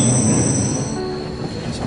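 A Bernina Railway train rolling on rails through alpine glacier country near the Palù glacier and Lago Palù gives a loud, close, steady rumble with high, sustained metallic wheel squeal, with no talking.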